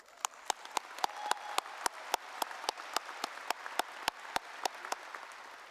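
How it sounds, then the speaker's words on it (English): Sparse, evenly spaced handclaps at a university graduation ceremony, sounding like a small number of people clapping in a steady rhythm, fairly quiet and somewhat distant, with a faint hum of room noise underneath. "Let's give them all a round of applause."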